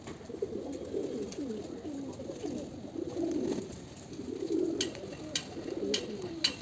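Pigeons coo in low, rolling, repeated calls, fairly close and steady, with faint clicks and rustles in the background, at a pigeon loft in hot sun during bathing.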